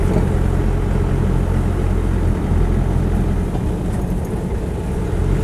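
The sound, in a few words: Land Rover 90 2.5 diesel hardtop driving and changing gear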